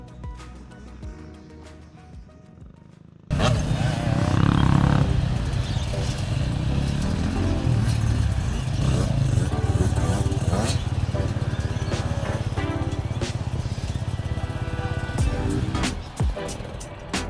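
Motocross motorcycles ride laps during a lesson, engines starting suddenly after a quiet stretch and then droning loudly and steadily close by, with clattering and shifting revs.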